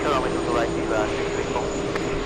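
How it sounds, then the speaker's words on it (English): A Delta Airbus A330neo in Peacock livery on final approach into JFK gives off a steady, loud jet roar with a whining engine tone, heard outdoors without a break. "Final approach, we have Delta 273 flying in from Lisbon, Portugal. It's an A330 Neo."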